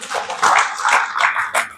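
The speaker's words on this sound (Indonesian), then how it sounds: "Oke, tepuk tangan boleh ya, Rumang." A small audience at an Islamic religious lecture claps in brief, uneven bursts, close and moderately loud, with no talking.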